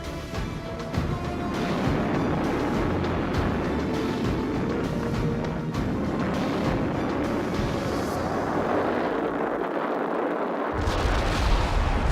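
The Vanguard rocket launch, America's first live public launch attempt, heard as a loud, continuous roaring rumble that fills the whole stretch without let-up, with no voices.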